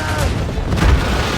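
Ship cannons firing at a fort in Assassin's Creed Rogue, a loud deep boom within dense, rumbling battle noise at sea.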